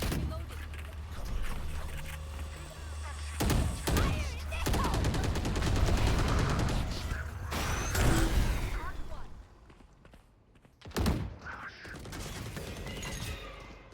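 Bursts of video game gunfire crackle in a fast, dense fusillade, stop briefly, then return in sharp volleys. Players shout excitedly over the shooting.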